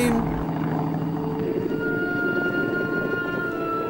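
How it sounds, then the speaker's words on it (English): An airplane sound effect: a loud, steady engine drone with a sustained whining tone runs evenly throughout, after a brief louder burst at the start. "You should dream about a plane."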